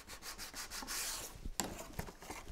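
A wooden dowel rubs and presses along glued paper of a bunny-shaped pants bag, giving a dry, close scraping sound in repeated short strokes with a couple of sharper knocks near the end.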